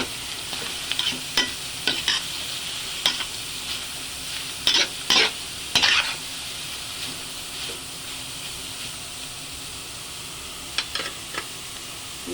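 Chopped pork innards for dinuguan fry in a pan with a steady loud sizzle and hiss, broken by repeated scraping clacks of a spatula stirring; no talking.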